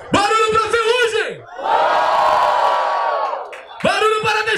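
A crowd at a hip hop battle cheers and shouts in one loud, sustained roar, framed by an amplified voice speaking through a PA before and after.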